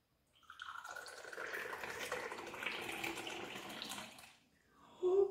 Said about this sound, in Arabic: تو جا الوقت باش نصبوه